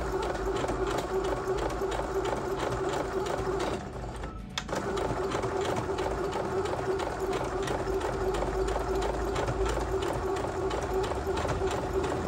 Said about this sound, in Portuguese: Vou ajustar a máquina para a velocidade mais lenta possível, para vocês de casa poder ver como essa máquina trabalha.